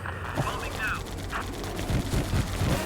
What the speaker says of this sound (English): We have a bit more cannon fire